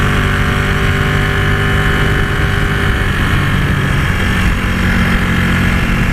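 A Ducati 899 Panigale motorcycle's twin engine running on the road, a loud continuous droning roar with a steady throbbing tone and a slight shift in pitch partway through.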